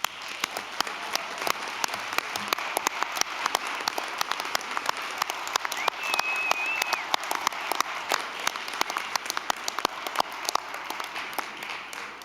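An audience at a school board meeting applauds parents, with dense, sustained clapping from a crowd filling the room at an even level for the whole stretch.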